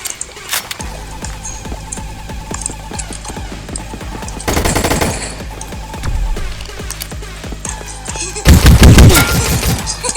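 Rapid automatic gunfire in a 1v1 video game gun fight, long stuttering bursts of shots with mechanical clicks between, swelling into louder dense volleys near the end, with no talking.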